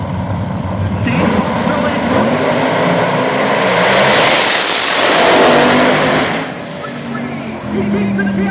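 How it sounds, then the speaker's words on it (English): Pro drag racing cars at the PDRA World Finals launch and scream down the strip, a loud roaring surge that builds to a peak and fades as they pass, with an announcer talking over it. "Look at the drag race right there."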